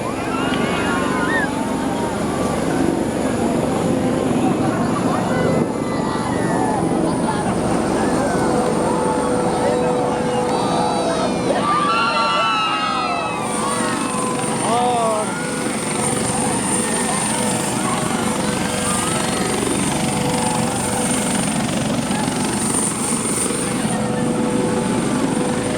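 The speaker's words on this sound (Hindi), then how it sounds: "ये गड़गड़ाहट जो हेलीकॉप्टर की आवाज़ है, पूरा धूल गर्दा उड़ चुका है।" Helicopter landing and kicking up dust at a crowded outdoor political event in Tandwa: a continuous loud rotor rumble throughout, with a crowd and a commentator talking over it.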